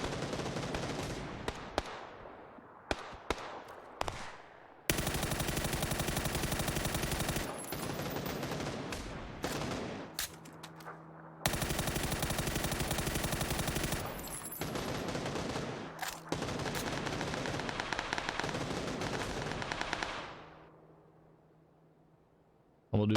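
Long sustained bursts of automatic gunfire in PUBG on console during recoil practice against a stationary target, loud, dense, rapid shots broken by brief pauses and a quieter opening, tailing off near the end.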